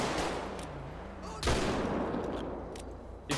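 Gunshots in a FiveM roleplay game, a sharp loud crack midway and another at the end over a steady engine-like drone, with a voice talking faintly underneath.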